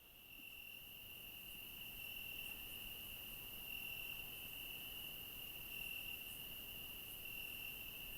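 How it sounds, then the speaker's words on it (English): Crickets chirp continuously in a steady, high-pitched drone, faint and distant, with a quiet nighttime background. "Away from the city, we might hear crickets, birds, rustling, maybe a coyote."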